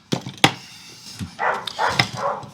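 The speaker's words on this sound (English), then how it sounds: "My dogs are having fun because the lawn is being mowed." Several dogs bark in sharp separate bursts, then break into busier, higher yips and yelps, fairly close by and excited while a lawn is being mowed nearby, with no one speaking.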